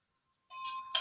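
Small temple bell rung once, a sudden bright metallic clink that rings out briefly after a near-silent start, followed by a second sharper strike at the end.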